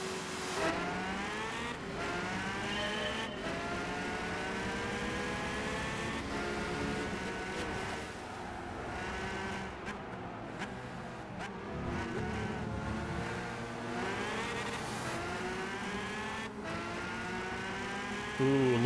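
Several race car engines in Gran Turismo 5 whine and rev, rising and falling in pitch as they pass and shift gears, a continuous mechanical roar at moderate level.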